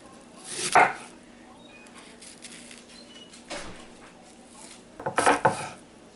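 A knife chops a small onion on a board in a few separate bursts, close and crisp, with quiet pauses between the cuts.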